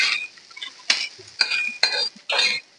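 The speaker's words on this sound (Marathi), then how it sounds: "मी लोखंडाच्या तव्यात भाजतीये" Onion being roasted in an iron tawa, stirred with a metal spatula that scrapes and clinks against the pan in short, close bursts separated by brief pauses.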